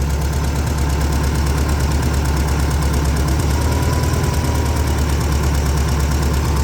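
Engine fitted with a pair of new Chinese-made 40 IDF carburetors running steadily at idle, loud and close, a constant throbbing drone with no talk.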